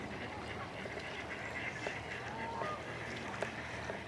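Ducks and geese on a country park lake call faintly at a distance, with scattered quacks and honks over a steady outdoor wash of wind and ambient noise.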